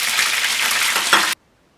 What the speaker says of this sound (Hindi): दूसरी साइड से भी कबाब फ्राई हो चुके हैं